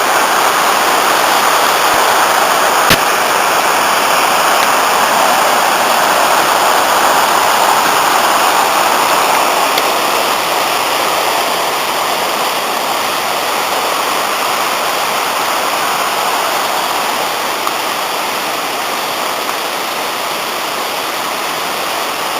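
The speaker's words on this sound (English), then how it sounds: "still a very considerable amount of water tumbling down there" Afon Ysgethin, a river in a wooded Welsh valley, tumbling down in heavy flow: a steady, loud, continuous rushing roar of water close by, unbroken for the whole stretch with no voices.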